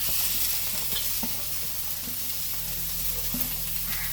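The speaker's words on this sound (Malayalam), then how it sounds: "ഇനി നമ്മുടെ നേന്ത്രക്ക അരിഞ്ഞു വെച്ചിരിക്കുന്നത് നമുക്ക് ഇതിനകത്തോട്ട് ഇട്ട് കൊടുക്കാം" Chopped raw plantain hits a pan of frying coconut and onion, and a steady close sizzle follows, broken by light scrapes and knocks of stirring, with no voices.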